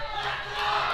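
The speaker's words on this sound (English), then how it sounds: "You hear cheers for encouragement from the crowd." A crowd at a Pan-American powerlifting championship cheers to encourage a lifter, a brief, loud, sustained wash of shouting voices.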